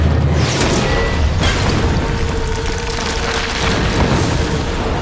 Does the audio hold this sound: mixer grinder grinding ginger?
no